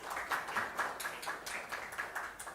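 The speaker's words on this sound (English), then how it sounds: "Please give him a big round of applause." Faint audience applause at a panel event on India's green transition and Article 6 partnerships, a soft, distant patter of scattered claps with uneven rhythm.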